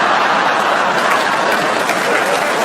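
Comedy show audience applauding loudly and continuously, a thick wash of many hands clapping from a large crowd, steady and close, without speech over it.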